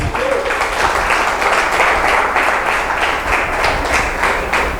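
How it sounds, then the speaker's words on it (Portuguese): A church congregation applauds for Jesus: a dense, steady wash of many hands clapping together, loud and continuous throughout with no break. "Dá uma forte salva de palmas para Jesus"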